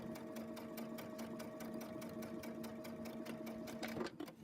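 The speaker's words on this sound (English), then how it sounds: "just keep sewing" A sewing machine runs steadily, stitching sections of a pinwheel braid fabric piece with a fast, even needle rhythm, close and clear, stopping near the end.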